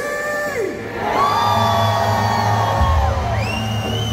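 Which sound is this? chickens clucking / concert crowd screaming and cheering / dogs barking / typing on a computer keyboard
concert crowd screaming and cheering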